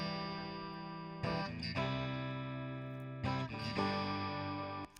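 An electric guitar played through a Vox amp model in Studio One Ampire, with no effects, rings out as two sustained overdriven strummed chords, each followed by a brief accented restrike and a slow decay.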